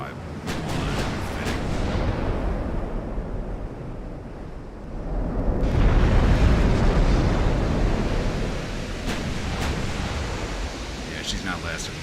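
A warship's ammunition cooking off in a naval battle game set in the 1890s: a deep, rumbling explosion swells over a roaring, surf-like noise bed, with sharp cracks of distant gunfire scattered through, and no voices.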